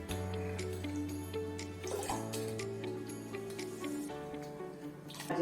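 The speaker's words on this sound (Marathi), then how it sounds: "या खपली गहू धुवून घेते, पाण्यात आता" Khapli wheat grains swished and rinsed in a vessel of water, close sloshing and pouring splashes with a few drips, soft music playing underneath.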